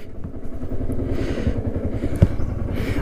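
A motorcycle climbs a steep, rocky path on a bike ride near Ooty. The engine chugs loudly and steadily up close, with faint clatter from the stones.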